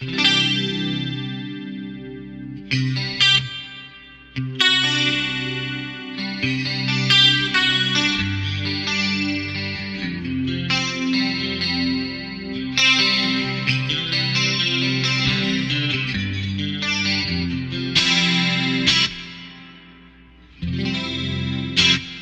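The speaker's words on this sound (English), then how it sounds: "So what you just heard was just the Eventide and the reverb." Electric guitar chords and notes drenched in a shimmering Eventide harmonizer effect and a wide Source Audio Ventris hall reverb, dense and continuous, with brief pauses near the end.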